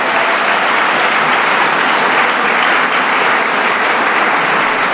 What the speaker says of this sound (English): can you give all of these Chicagoans an amazing round of applause?